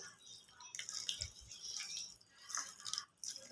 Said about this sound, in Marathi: आता यामध्ये मी थोडं कोमट गरम पाणी घालणार आहे